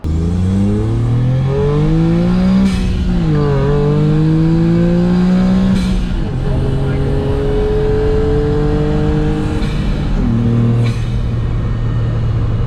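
A loud turbocharged Honda S660 engine, mounted right behind the seats, revs up and down repeatedly, its pitch climbing and falling in sweeps, with brief pauses between the pulls.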